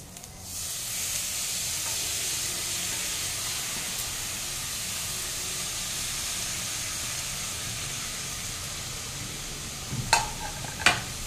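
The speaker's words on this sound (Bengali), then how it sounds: "এবার আমি বাকি পোর্শন রাইসটা দিয়ে দিচ্ছি।" Rice added to a pan of boiled capsicum and beans for tricolour rice, giving a steady close hiss and sizzle with a few sharp clinks near the end.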